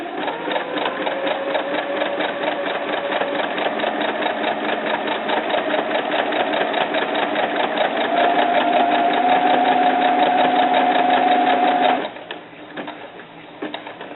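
A sewing machine stitches a small doll bra in one long, steady, close run of rapid even clatter that holds for about twelve seconds before stopping, followed by quieter handling sounds.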